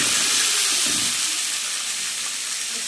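Small washed potatoes hit hot oil in a frying pan, setting off a loud, bright, continuous sizzle that slowly eases, with a few stirring knocks near the start.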